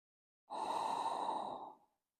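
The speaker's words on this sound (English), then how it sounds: "Take your breath deep into your lungs, feeling your back expand as it fills with air." A single deep breath during a total-body stretching routine, one smooth airy exhale of about a second and a half, close and fairly soft, with no talking.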